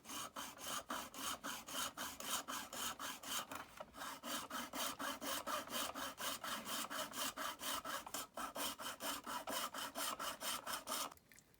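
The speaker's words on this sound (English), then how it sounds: "I'm just using a hacksaw. I'm just going to cut the glue away for this one" A hacksaw rasps through glued plastic on a USB power supply casing in quick, regular back-and-forth strokes, close and steady with one brief pause partway through.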